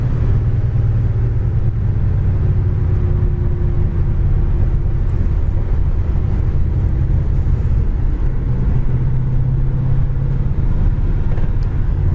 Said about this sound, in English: Got great acceleration.